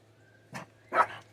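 A dog barks twice, short and fairly close, with a low steady hum in the background and nobody talking.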